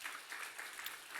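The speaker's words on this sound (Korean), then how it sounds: "박수 한번 쳐주세요." A church congregation at a Friday evening service claps to congratulate a young member, a soft, even patter of many hands heard from a distance, faint and continuous.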